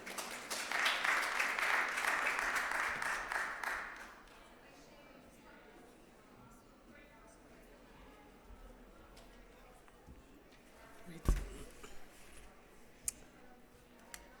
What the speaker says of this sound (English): If you could please give her a round of applause.